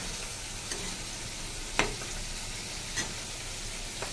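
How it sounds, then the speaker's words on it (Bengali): Prawns frying in a pan, an even low sizzle close by with a few sharp clicks and spatters scattered through, quiet and steady with no talking. "চিংড়ি মাছ ভেজে নিই, ততক্ষণ আমার এটা হয়ে গেছে।"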